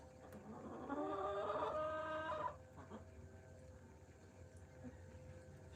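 A pet rooster named Fancy Pants crows nearby in a henhouse during egg collecting, one harmonic call lasting about a second and a half, then quieter background clucking and faint movement.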